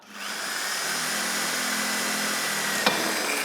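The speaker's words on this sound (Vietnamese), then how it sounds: "Chưa đầy 5 giây đã có ngay 2 mũi khoan rất gọn gàng và rất đẹp mắt thưa quý vị." An electric drill from a multi-purpose drill kit bores into a thick aluminum bar, giving a loud, steady grinding whine for about three seconds with a sharp click near the end. No one talks.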